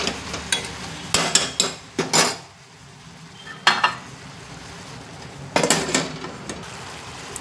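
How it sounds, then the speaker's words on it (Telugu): A spoon scrapes and clanks against a cooking pot while bitter gourd pieces are stirred with jaggery, oil and salt for a tamarind stew, in short sharp bursts with a pause before further clatter as the lid is set on; no talking. "ఇట్లా బాగా కలిపేసి మూత పెట్టేద్దాం"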